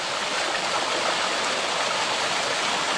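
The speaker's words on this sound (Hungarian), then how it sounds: "itt van egy működő víznyelő." Water pouring and draining into an active sinkhole at the Plitvice Lakes, heard as a loud, continuous rushing roar of flowing water with no voices.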